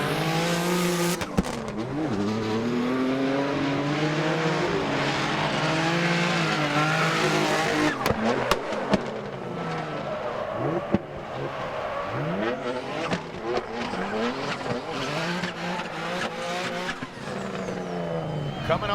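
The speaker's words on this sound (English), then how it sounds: "The Goosh gets the victory in a celebratory lap, 96 miles per hour, as he rips into that first inside clip" A Formula Drift race car screeches its tires through a celebratory lap at about 96 mph in Salt Lake City, Utah, with loud, sustained squealing and wavering engine revs rising and falling as it slides close by.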